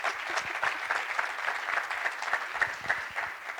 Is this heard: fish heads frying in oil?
no